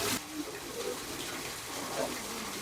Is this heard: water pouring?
yes